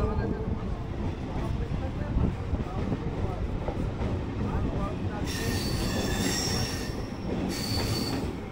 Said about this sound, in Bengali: ব্যান্ডেল যাওয়ার ট্রেন কিন্তু ছেড়ে দিল